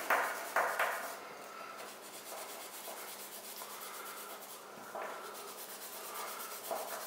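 A heavy-duty abrasive pad scrubs across a stainless steel watch bracelet in quiet, close back-and-forth strokes, with sharper rasps at the start of some passes.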